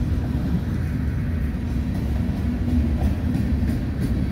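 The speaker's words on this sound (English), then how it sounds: "Train." A train rumbles past nearby, a loud, steady low roar with faint rhythmic rattling of the cars.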